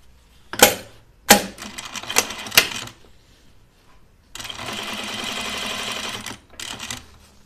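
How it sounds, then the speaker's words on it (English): Sewing machine stitching a fabric pincushion seam: a few short bursts of clattering needle action, then a steady run of about two seconds of continuous stitching, ending with a brief final burst, close and fairly loud. "But I start my stitching in the seam."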